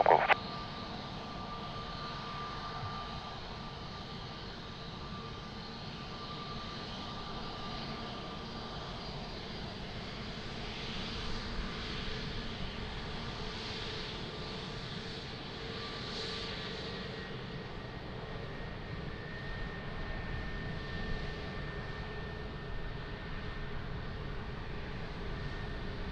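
An aircraft takes off from Lisbon Airport runway 02, heard as a steady, distant broadband engine roar holding for nearly half a minute at a moderate level, with no one speaking.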